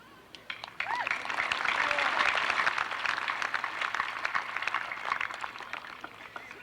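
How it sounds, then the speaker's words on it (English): Applause at a 1991 high school graduation ceremony honoring scholarship recipients, a broad steady crowd clapping that swells after a quiet start and holds for several seconds, with some voices mixed in. "Let's give them one more round of applause."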